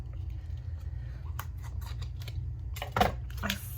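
Quiet snips of scissors cutting stretchy elastic bracelet cord, a few soft clicks near the end over low room hum.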